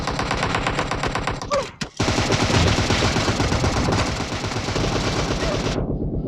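Rapid automatic gunfire in the mobile shooter PUBG Mobile, loud and continuous bursts of shots filling nearly the whole stretch, with one brief pause near the start.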